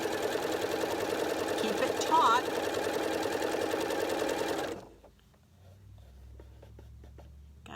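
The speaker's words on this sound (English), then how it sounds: "Lower the presser foot and sew along that thread, because that's your guiding line." Sewing machine stitching a dart along a guiding thread, a rapid, steady mechanical whirr and clatter running for several seconds before stopping abruptly, with someone speaking briefly over it and quiet handling sounds afterward.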